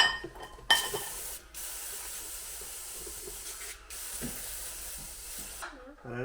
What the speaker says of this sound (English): What we need to do first of all is degrease everything.